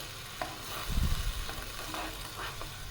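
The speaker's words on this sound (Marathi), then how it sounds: "तुम्ही बघू शकता मस्त कढी आता उकळी येईल" Quiet, soft bubbling of a thin kadhi curry simmering in a pot, with a faint stir or clink near the middle.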